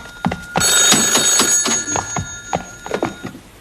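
A telephone rings loudly indoors, its bright electronic trill repeating in quick bursts for a few seconds, with thuds and light knocks of movement in the room around it.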